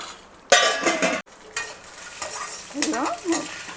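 Peanuts roasting in a pan for peanut chutney, rattling and scraping as they are stirred, with bursts of dry clatter, short pauses and a light sizzle underneath, close and clear.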